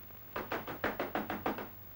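Seven firm knocks rap on a door in a quick, even rhythm, close and clear over a quiet background, in an old Turkish film.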